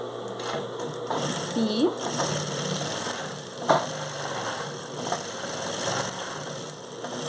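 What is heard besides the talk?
sewing machine stitching a narrow seam on a bag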